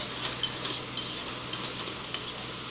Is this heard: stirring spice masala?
yes